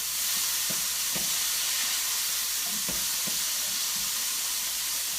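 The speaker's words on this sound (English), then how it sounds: "I'm going to stir these up too." Sliced peppers fry in coconut oil in a hot pan, a steady hiss and sizzle with a few soft scraping knocks as they are stirred around.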